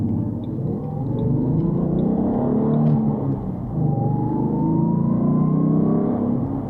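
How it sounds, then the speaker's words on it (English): Inside a Ford Mustang accelerating on the road, a continuous engine drone that swells and climbs steadily in pitch, heard from the cabin over road rumble. "Accelerating it mildly aggressively in the Stang."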